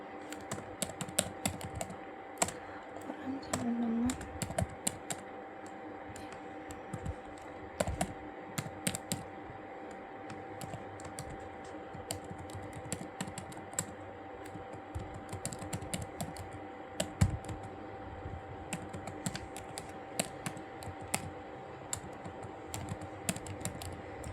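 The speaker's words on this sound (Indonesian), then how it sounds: "kita mau mengetikkan untuk menginput ukuran Q-nya" Steady keystrokes on a computer keyboard as a size value is entered into a program, scattered taps continuing for the whole stretch, fairly close and clear with no talking.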